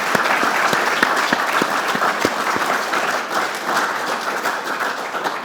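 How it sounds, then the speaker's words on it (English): Sustained audience applause, a dense wash of many hands clapping loudly and evenly, with a few sharper claps standing out. "Can I give a round of applause for that?"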